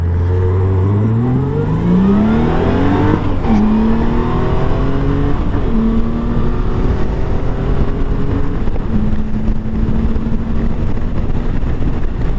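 A 1997 Honda Goldwing motorcycle engine revs up steadily, its pitch climbing then dropping with each gear shift up to fifth at about 90 mph, loud and continuous from up close.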